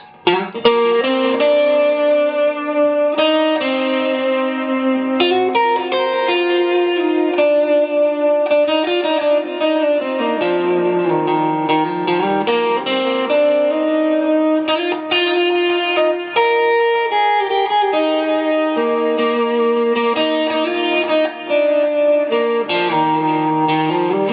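Clean electric guitar playing a melodic line with chords, steady and full, slightly effected with a touch of chorus and reverb, no voices.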